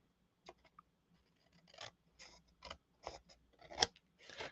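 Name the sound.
scissors trimming paper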